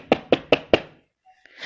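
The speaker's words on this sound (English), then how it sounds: "Little Red Riding Hood knocked on the grandmother's door." Four sharp knocks on a wooden door in quick, even succession, close and loud, followed by quiet.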